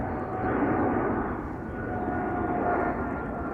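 A jet airliner departs from the center runway at Schiphol Airport, producing a steady broadband engine roar that swells and holds at a distance with no talk over it.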